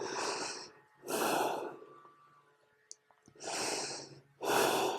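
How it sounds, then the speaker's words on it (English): Deep, audible breaths taken during a pelvic floor exercise routine: two long inhale-exhale cycles, close and fairly loud, separated by a quiet pause with a few small clicks. "2 deep breaths."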